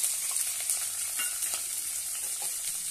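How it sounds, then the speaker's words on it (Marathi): Cumin, chopped garlic and finely cut onion sautéing in a pan, a steady close sizzle broken by occasional spatula scrapes, with nobody speaking. "छानपैकी परतून घेऊया।"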